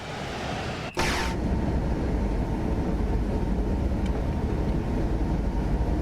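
DB BR 146.2 electric locomotive in Train Sim World 5 cruising at speed with double-deck Dosto coaches in tow, a steady loud rumble and rail roar throughout, with a brief high hiss near the start.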